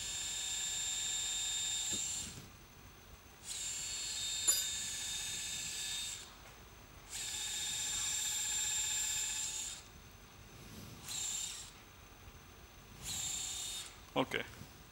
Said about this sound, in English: In a very sclerose bone like this, I prefer making a few drill holes.